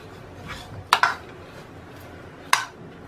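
A spoon clinks against a bowl while coriander-cumin powder, red chili powder, turmeric and desi ghee are mixed for cauliflower meatballs: a double clink, then a single sharp tap over faint background, with no speech.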